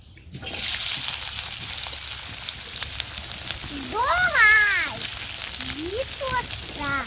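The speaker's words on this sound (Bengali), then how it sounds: "এখন পেঁয়াজ কুচি করে রাখছি পেঁয়াজ কুচি দিয়ে দিই" Chopped onion frying in a pan sets off a sudden, close, continuous sizzle, with a voice speaking over it in the second half.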